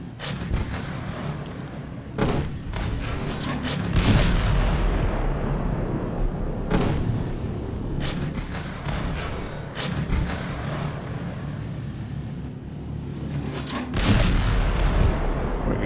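Tank cannons in the video game Panzerkampf fire over and over, each loud, heavy boom followed by a rumbling decay over a constant battle din.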